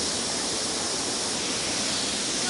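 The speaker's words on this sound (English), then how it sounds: "Waterfall." Waterfall at a Washington DC memorial, a steady, full rush of falling water filling the scene evenly with no voices.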